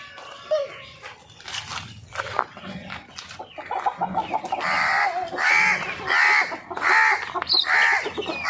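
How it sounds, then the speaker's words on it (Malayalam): Hens and chicks cluck and squawk in repeated bursts close by, growing louder toward the end, with some voices mixed in. "നമ്മുടെ കോഴിക്കുട്ടികൾ"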